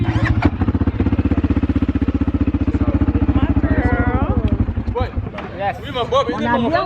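A quad bike engine at Lake Retba throbs in a close, steady rhythmic idle, then fades as voices take over, with people chatting over and after the running motor.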